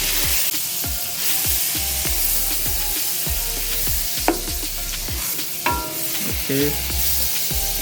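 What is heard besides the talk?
garlic butter melting in pan on lowest heat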